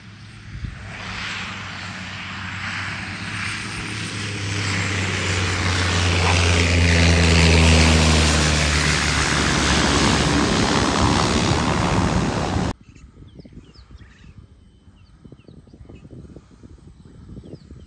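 A propeller aircraft engine swells and powers up at a game reserve, a loud broad roar with a low droning tone that builds toward the middle, then cuts to quieter, sparse background noise.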